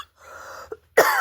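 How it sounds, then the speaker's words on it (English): A short throat-clearing rasp followed by a single sharp cough, close and loud, after a brief quiet moment. "Coughing."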